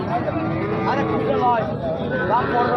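A heifer calf of about two and a half months, a local breed, moos repeatedly at a livestock market, loud and close, with people talking over it and a busy crowd behind.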